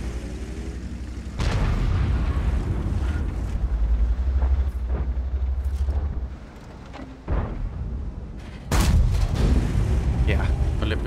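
A tank cannon fires in World of Tanks as a Skorpion G, with heavy booming blasts and rumbling engine noise, a loud shot near the start and another late, under brief speech.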